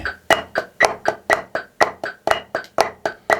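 Even eighth notes at 120 bpm struck on a drum practice pad: crisp, dry taps in a steady, evenly spaced stream, close and clear, with no voice.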